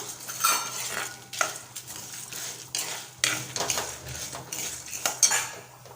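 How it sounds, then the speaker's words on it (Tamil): Dal, coriander seeds, fenugreek and pepper dry-roast in a pan, with repeated metal spoon scrapes and clinks against the pan and a faint rustle of grains between the stirs. "இப்போ எல்லாத்தையும் சேர்த்துட்டு வறுத்து எடுத்துக்கலாம்"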